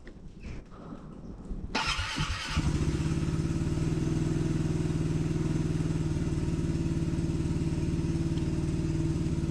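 A Royal Alloy GP300 scooter is started outdoors in wind, catching after a brief crank and then settling into a steady, close, even idle that continues to the end.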